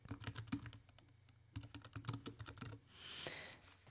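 Fingers tap a computer keyboard in quick, uneven bursts of clicky keystrokes while entering text in After Effects, close and quiet, with a brief pause midway and a soft hiss at the end.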